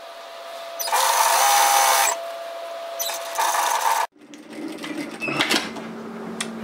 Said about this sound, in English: we're going to sew this at a 1 centimetre, 3/8 of an inch seam allowance from the edge of the armhole all the way through to the neck